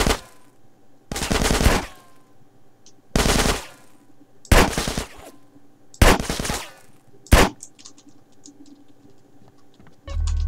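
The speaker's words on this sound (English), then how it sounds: "You can hear the gunshots, how loud it is." Loud bursts of rapid gunfire in GTA San Andreas, about five separate volleys spaced a second or two apart, with a low background hum between them.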